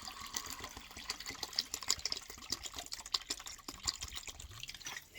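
Water poured into a container so an animal can drink: a faint, close trickling and splashing stream with dripping, continuous for a few seconds.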